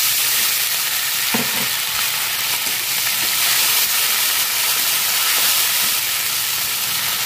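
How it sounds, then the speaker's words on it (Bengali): Ginger paste with a splash of water fries in a pan for Bengali fish curry, giving a loud, unbroken hissing sizzle with a couple of faint knocks from the utensil. "আদাটা এখানে ভাজা হোক, ততক্ষণ আমি মশলাটা বানিয়ে নিই।"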